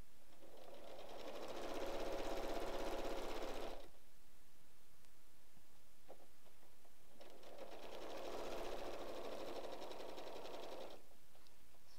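A sewing machine runs in two steady bursts of a few seconds each, stitching through layered fabric of a purse made from 8-inch squares, with a quiet pause between runs.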